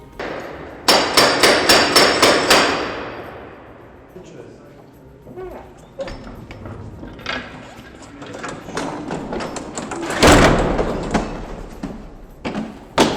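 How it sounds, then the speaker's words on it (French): The heavy wooden doors of the Holy Sepulchre basilica close at nightfall, loud metallic clanks and hammering knocks repeating in a rapid burst, then scattered thuds and a final heavy bang in a reverberant stone interior, with voices murmuring. "Ses lourdes portes en bois sont fermées."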